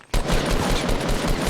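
Rapid, loud gunfire in the battle royale game Fortnite, a dense continuous burst of shots starting abruptly and hammering on close by for the whole stretch.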